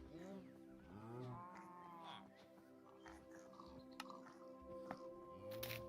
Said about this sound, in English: The cows being able to climb the ladder is wild